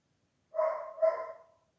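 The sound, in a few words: neighbour's dog barking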